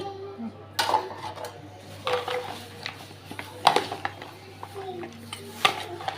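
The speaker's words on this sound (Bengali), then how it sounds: "তো হলুদ আর মরিচ লবণ দিয়ে দিলাম তো আমি এখন এগুলো সব কিছু ভেজে নিব একসাথে মাখিয়ে" A spoon stirs and scrapes meat with turmeric, chili and salt in a metal pan, giving intermittent clinks and knocks at close range, with faint voices in the background.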